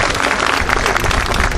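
An audience at an outdoor square-naming ceremony in Squinzano, Italy, breaks into warm applause, a loud, dense burst of clapping from a sizable crowd nearby, with no voices over it.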